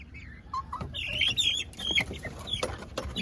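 Silkie chickens and young chicks clucking and chirping in a backyard flock, several birds calling close by in overlapping short bursts and squawks with no talking.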